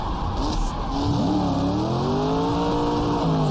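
A 1960s-era race car in the GTR2 racing game, lapping the 1966 12 Hours of Sebring, revs hard and climbs in pitch with a brief tire squeal, loud and close, with no talk over it.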